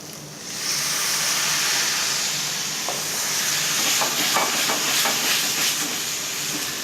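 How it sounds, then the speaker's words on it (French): A hot pan deglazed with white wine gives off a steady, loud steamy hiss with scattered crackles and sputters from the liquid, and no talk over it. "Maintenant, on peut déglacer en vin blanc."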